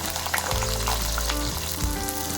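Cauliflower fries in soybean oil in a wok, a continuous close sizzle with a low steady hum running underneath and a few light stirring touches, no voices present.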